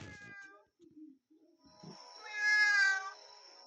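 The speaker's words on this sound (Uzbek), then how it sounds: "Albatta mushuk." Cartoonish cat meows from the video game Pikabuu Smile, a short mew followed after a pause by a longer, louder drawn-out meow, clear against near silence.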